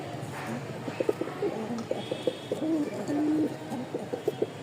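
Pigeons cooing up close in a loft, with repeated low, throaty coos in an irregular rhythm over faint background noise.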